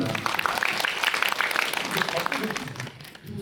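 Audience applause at a Korean film screening Q&A, a dense, steady patter of clapping filling the hall for about three seconds before tapering off at the end.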